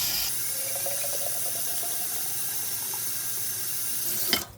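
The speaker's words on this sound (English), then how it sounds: "Gonna awkwardly fill this up with water and refill it." Tap water runs steadily into a pot of broth and tomatoes for osso buco in a kitchen. A continuous close rushing fill ends with a brief clunk.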